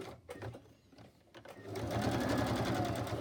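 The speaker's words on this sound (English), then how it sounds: "it's very simple, just stitching around" Sewing machine stitching around the edge of a paper tag made from old book pages, starting with a few short bursts and then running steadily and close, louder in the second half.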